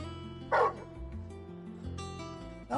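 A dog barks in the video game Final Fantasy XVI, with two short yipping barks a couple of seconds apart over steady background music.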